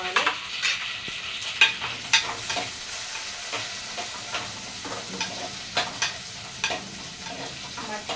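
Green chilies and onions sizzle and hiss steadily in a hot pan, with a scatter of sharp scrapes and knocks from stirring spread across the whole stretch and no voices.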